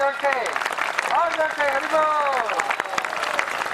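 Hand clapping keeps time during a devotional Vishnu remembrance, scattered sharp claps mixed under sustained, wavering singing voices throughout.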